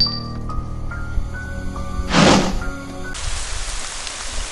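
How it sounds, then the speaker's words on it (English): Rain starts to pour inside a room in the game Ib. A brief whooshing swell comes first, then a steady, dense hiss of falling rain fills the rest, over a soft musical drone and without speech. "It started raining in the room."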